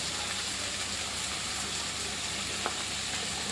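Cabbage and mixed vegetables stir-frying in a hot pan for paneer fried rice give off a steady, close, dense sizzle that holds constant throughout, with no talk over it.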